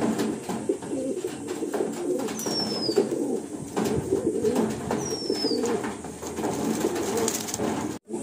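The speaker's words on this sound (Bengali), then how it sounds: "দেখুন অলরেডি সমস্ত পায়রা কিন্তু গরমে এসে গেছে" Malwai and Madrasi pigeons coo in soft, low, repeated throaty calls over a steady loft murmur, with a couple of brief higher chirps.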